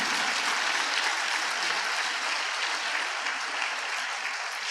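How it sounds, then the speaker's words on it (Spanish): A church congregation applauds together, producing a dense, steady wash of clapping that holds at an even level throughout, heard from a slight distance with no talking over it. "Dale un aplauso a Dios."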